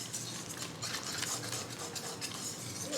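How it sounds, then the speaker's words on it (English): A whisk beats flour into a wet batter sponge for pita bread, producing fast, even scraping clicks against the bowl, steady and close. "And now we're going to add a cup of flour. We're going to whisk this."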